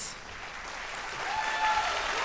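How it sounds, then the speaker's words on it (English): Audience applause at a televised vocal competition show, a steady wash of many hands clapping that swells slightly toward the end, with a faint tone or voice threading through. "Please join me in applauding Colgate"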